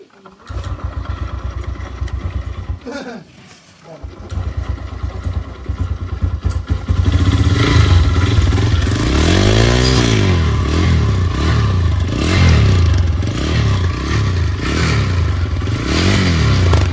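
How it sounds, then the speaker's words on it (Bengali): A TVS Raider motorcycle engine, freshly filled with new Shell Advance oil, sputters, cuts out briefly, then starts and runs loudly, revving up and down in repeated swells close by. "এখন দেখা যাক গাড়ির শব্দটা কেমন হয়।"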